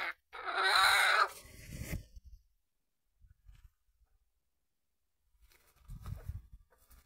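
A chicken gives a loud, harsh squawk near the start, followed by scattered soft thumps and rustling, then a brief flurry of movement near the end.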